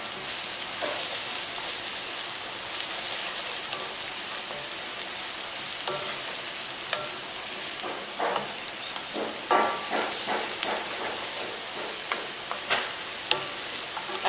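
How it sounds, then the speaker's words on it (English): Onions and garlic sizzle steadily in a very hot pan, a dense continuous fry with scattered crackles and the occasional stir, close and loud throughout with no talking. "I'm going to go ahead and throw my garlic in. So let this start cooking."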